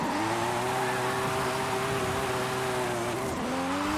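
A Mazda FD car in the Forza Horizon 5 racing game, with its engine held at a steady, loud high-rev drone that dips briefly near the end before climbing again. No talk.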